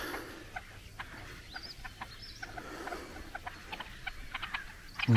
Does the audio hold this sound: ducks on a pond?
yes